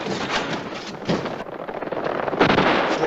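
Comedy machine-gun fire from a meat grinder used as a gun, a loud, dense rattling burst of rapid shots in a steady stream, close and with no talking.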